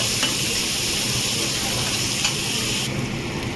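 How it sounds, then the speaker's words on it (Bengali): Sliced onions fry in a pan with cumin and dried red chilli tempering. A steady, dense sizzle continues unbroken and close throughout. "পেঁয়াজটা আমি ভেজে ফিরছি।"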